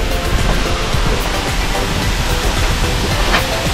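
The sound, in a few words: Tomalistis Falls waterfall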